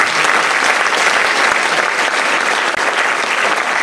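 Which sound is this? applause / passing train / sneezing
applause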